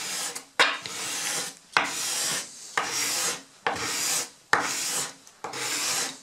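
A card scraper scrapes across wood held at a steep angle, six distinct rasping strokes, each a broad, close scrape separated by short pauses, with no talking.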